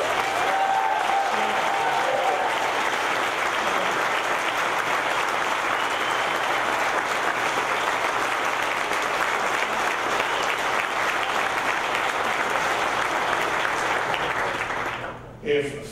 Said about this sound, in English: give these two a big round of applause